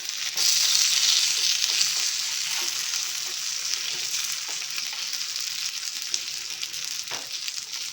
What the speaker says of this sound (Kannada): ಎರಡು ನಿಮಿಷ ಈ ಕಡೆ ಫ್ರೈ ಮಾಡೋಣ